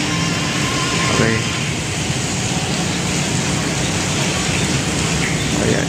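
Steady rain during Typhoon Tino beside the Pasig River esplanade near the Jones and MacArthur bridges, a constant even hiss filling the scene, with faint voices and distant traffic mixed in.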